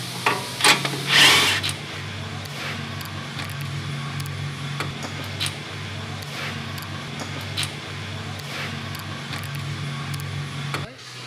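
A 21 millimeter nut on a Ford F150 strut is tightened with a tool, with a few sharp ratcheting bursts early, then a steady low hum and faint clicks.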